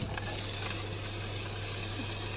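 Onions hitting a hot pan and sizzling steadily, a bright close hiss that holds evenly throughout with no talk.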